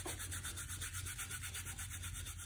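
A brush spreads varnish in an even layer across a finished painting, giving a steady soft rubbing swish with repeated strokes, close and continuous with no talk.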